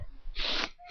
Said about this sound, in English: I had like a little sneeze attack there.